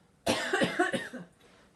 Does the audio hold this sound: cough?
yes